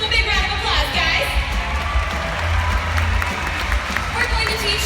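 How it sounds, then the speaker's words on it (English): Audience at a SeaWorld San Antonio killer whale show applauding and cheering, a dense, steady wash of clapping with whoops and children's shouts, loud and continuous throughout. "let's give them a big round of applause, guys."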